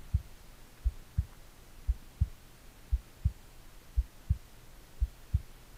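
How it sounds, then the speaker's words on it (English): A steady, muffled heartbeat thumps about ten times in a low, even rhythm over quiet hiss in the video game WHICH, with no voices. "Is that my heart beating?"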